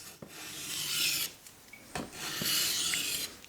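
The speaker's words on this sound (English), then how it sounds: "Nice clean stone, reduce pressure, and cutting strokes only, single cutting strokes." A 50-year-old puukko knife is drawn across a clean whetstone in single cutting strokes, giving two long, close gritty rasps separated by brief pauses and small knocks.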